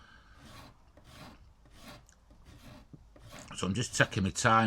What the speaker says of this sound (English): It takes a lot of stock off very, very quickly, this rasp.